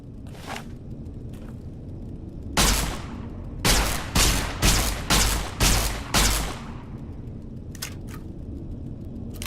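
Gunfire rings out at a shooting range in the video game Fallout: New Vegas: a few faint early shots, then a loud rapid string of about seven close blasts, followed by scattered softer shots.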